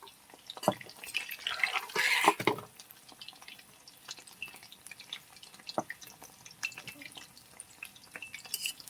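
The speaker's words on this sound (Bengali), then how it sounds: "লাল লাল করে এগুলো ভেজে নেবো" Food fries in a pan, a soft intermittent sizzle with light crackles and a brief louder burst of spattering, fairly quiet and close.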